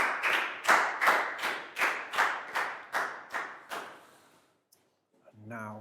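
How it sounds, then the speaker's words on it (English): A classroom group claps in unison, about ten loud rhythmic claps close by, fading out before a voice begins to speak. "High five and a big round of applause for Bangpon."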